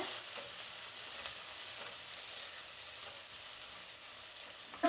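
Garlic paste fries in a pan with a faint, steady hiss that holds evenly throughout, no voices, and a brief knock of a utensil at the very end.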